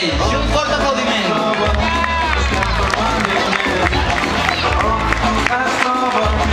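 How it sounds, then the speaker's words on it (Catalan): Crowd at a Barcelona carnival event in Sants-Montjuïc applauding and cheering, a dense continuous wash of clapping and voices with music-like tones mixed in. "I un fort aplaudiment."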